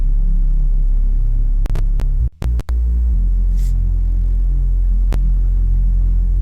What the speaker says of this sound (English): Next up we have our bass